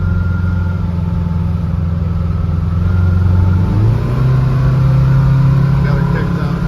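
A Subaru-engined VW bus accelerates from inside the cabin, its engine droning steadily, then its pitch jumps as the transmission kicks down. A voice talks briefly over the engine.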